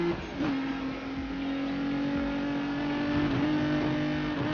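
A car in Need for Speed Most Wanted accelerates hard, its engine holding a loud steady whine that climbs and shifts pitch a few times, up close and alone.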